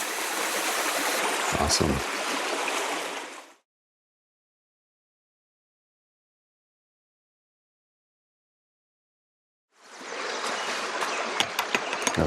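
Stream water at the Mississippi River headwaters flows with a steady broadband rush, loud for the opening seconds, cutting to silence, then returning near the end with a few sharp knocks; someone speaks briefly over it.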